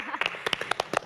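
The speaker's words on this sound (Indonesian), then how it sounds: "Kita kasih tepuk tangan dulu." A small audience at an Indonesian health talk claps briefly. The claps are quiet, sparse and distinct, with roughly a dozen sharp hand claps in about a second and faint voices mixed in.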